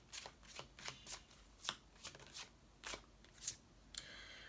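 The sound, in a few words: shuffling and drawing an oracle card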